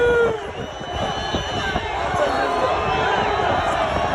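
Football crowd at an Africa Cup match in a Fez stadium, with Nigeria playing, a dense, continuous roar of fans cheering and chanting that fills the whole stretch at steady loudness.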